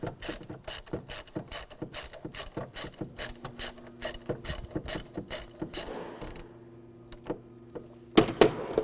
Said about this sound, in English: Take a 13mm socket, take this battery hold down off.